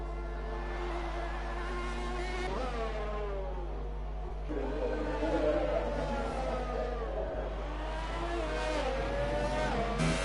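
F1 2018 race car at the Austrian track spinning out: a high engine whine swoops and wavers in pitch, dipping and climbing again as the car slides, over a constant low drone.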